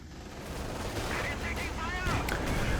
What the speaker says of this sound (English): Rommel, in the meantime, throwing rounds at the command tank